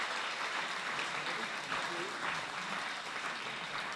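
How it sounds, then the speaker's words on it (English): An audience at a Collier County Commission Republican candidate forum applauds the District 2 candidates, a dense, steady round of clapping that carries on without a break for the whole stretch. "we'd like to applaud for all the District 2 candidates"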